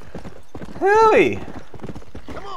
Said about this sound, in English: that's a right purty horse